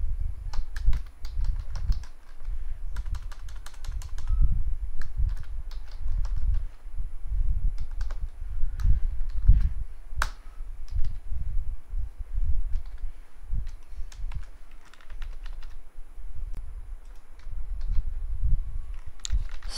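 Fingers type steadily on a computer keyboard while code is written, giving soft, continuous irregular clicks and taps at close range with no talk.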